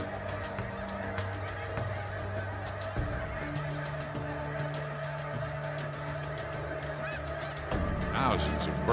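A huge flock of geese in a Saskatchewan field honking continuously, a dense overlapping chorus of calls that swells louder near the end.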